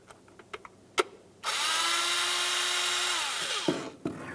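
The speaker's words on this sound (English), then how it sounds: "You can either use a Phillips head or a 7mm, loosen each one of those mounting screws" A power tool loosens a distributor cap mounting screw on a 1994-2002 Dodge Ram 2500, a few light clicks and taps, then a steady close whine for about two seconds that winds down, followed by more handling knocks.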